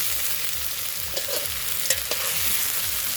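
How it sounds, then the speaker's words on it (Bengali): Spices fried in a pan over an outdoor village stove, a steady sizzle with rhythmic stirring scrapes and a few clinks of the spoon against the pan, close and without voices. "সব দিয়ে এবারে মশলাগুলোকে আমি ভালো করে ভেজে নেব।"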